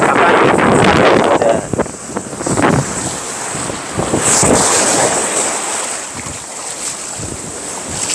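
Strong gusty wind roars and buffets the microphone continuously on the east coast seashore of Korea, with surf and rushing water beneath it, loud and close.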